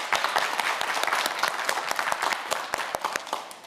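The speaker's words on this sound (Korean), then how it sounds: "응원하는 의미로 큰 박수 부탁드립니다" A studio audience on a televised science quiz show claps in a dense burst of applause that stays even and lively for a few seconds.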